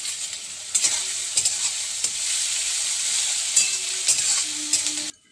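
Tilapia pieces fry in hot oil with garlic, ginger and green chili, a steady loud sizzle broken by occasional stirring clatters of a spatula against the pan.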